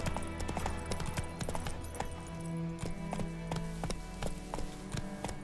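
Hooves of the horse in the Witcher 3 video game clip-clopping in a steady galloping rhythm over a constant game soundscape with background music, mid-distance and moderately loud.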